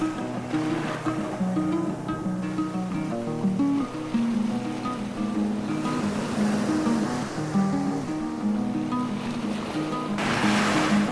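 Sea waves wash steadily onto a rocky beach at the Agios Gordios seaside resort on Corfu, Greece, with a continuous surf roar and a louder surge near the end, mixed with wind noise and no talking.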